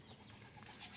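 A white-winged dove kept in an aviary, giving soft low cooing notes amid faint background chirps, quiet and brief, with no voices.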